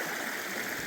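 Water in a shallow creek rushes and burbles steadily in a continuous, fairly loud wash with no voices.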